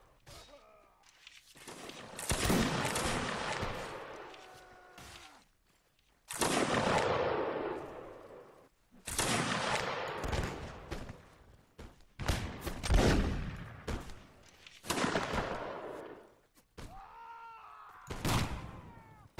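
Musket volleys in Mount and Blade: Full Invasion 2 during a Seven Years War battle, several loud separate crackling salvos a few seconds apart, each followed by a decaying roar, with no talk over them.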